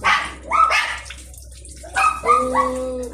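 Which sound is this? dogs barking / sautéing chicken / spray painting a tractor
dogs barking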